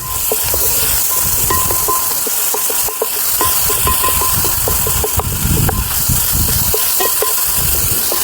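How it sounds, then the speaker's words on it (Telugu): Fresh ginger garlic paste fries in hot oil in a pan outdoors in the fields, a steady loud sizzling hiss with scattered crackles and stirring scrapes throughout. "అల్లం కూడా పచ్చివాసన పోయిందాక మంచి ఫ్రై చేసుకోవాలి ఆయిల్లో"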